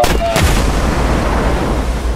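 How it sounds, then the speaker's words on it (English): Gunshot and a van exploding in an SML puppet movie: a loud sharp blast at the start followed by a sustained low rumbling roar that fills the rest of the moment, with no talk over it. "The van blew up."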